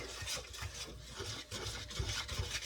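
Dough being mixed by hand with a Dutch whisk, giving soft, rhythmic rubbing and scraping strokes, close and quiet, with no talking.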